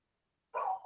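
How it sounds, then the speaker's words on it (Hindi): A single loud dog bark cuts in abruptly after half a second of silence, close by in a room during an online class lesson. "कुत्तों ने तंग किया हुआ बहुत ज्यादा"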